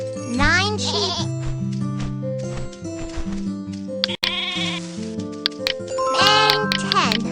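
Cartoon sheep bleat one after another as they are counted at bedtime, a series of wavering, nasal calls close up, mixed with gentle music and a speaking voice.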